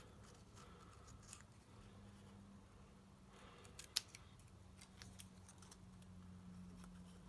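Scissors make faint, close snips through a sheet of vellum, several soft crisp cuts spread over a quiet background, with one slightly sharper click partway through.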